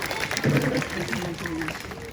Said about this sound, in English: Let's have a big round of applause for Suki there